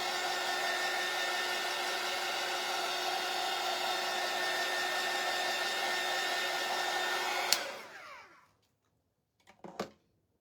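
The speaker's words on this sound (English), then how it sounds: "We're going to dry this down." A hair dryer blows steadily and loud on a craft shelf sitter for about seven seconds, then clicks off and winds down, followed by a couple of brief handling knocks.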